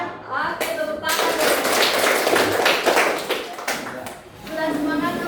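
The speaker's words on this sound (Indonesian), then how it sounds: "Oke, tepuk tangan." A classroom of students claps together in dense, sustained applause-like patter lasting several seconds, with children's voices mixed in.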